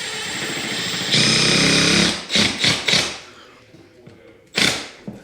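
A Milwaukee M12 Surge hydraulic impact driver drives a screw, running in quiet bursts: a steady whir, then several short pulses, a pause, and one more brief burst, with faint background sound.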